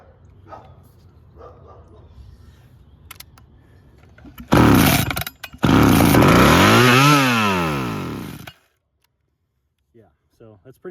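A curbside-find chainsaw running on fuel fed from a bottle: after quiet handling and brief speech it roars loud and close, sputters and catches again, revs up and down for several seconds, then cuts out abruptly.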